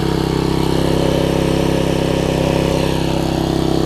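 Troy-Bilt Tuffy tiller engine running steadily at full throttle, a loud, continuous, close-up drone with no talking.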